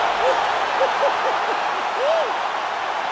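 An arena crowd roars after a knockout ends a fight: a steady, loud wall of cheering with shouts and whistles rising above it, lasting throughout.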